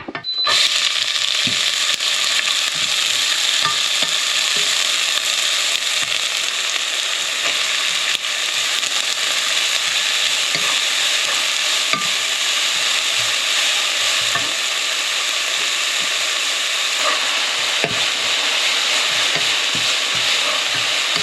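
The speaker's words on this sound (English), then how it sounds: "That's turning, so you can add your onion now." Onion sizzles loudly in an oiled frying pan after shrimp, tofu and leeks, with a steady frying hiss and frequent scraping and clicking of a utensil stirring throughout, close and unbroken.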